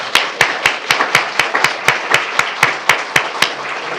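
Applause at a city council candidates' forum in Oldsmar: a steady series of sharp, evenly spaced claps, about four per second, close and fairly loud with no talking.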